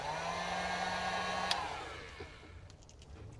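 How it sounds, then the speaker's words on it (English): A heat gun blows hot air in a steady, low-level whoosh that fades toward the end, with a faint click partway through and no talking. "I got the old heat gun"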